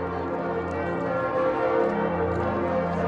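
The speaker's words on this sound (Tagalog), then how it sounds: "Ito yung kampana." A church bell rings faintly from a distance near Lisieux, its tone sustained over a steady outdoor background with no talking.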